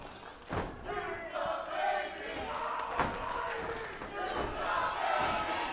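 A wrestling crowd at a Phoenix Pro Wrestling show chants loudly and rhythmically, with thumps and scattered shouts rising from the arena and no commentary over it.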